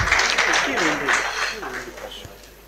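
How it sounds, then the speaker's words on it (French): An audience at a diploma ceremony for a master class applauds with a broad, continuous patter of clapping that slowly fades, while a voice talks over it near the microphone. "Sous vos applaudissements,"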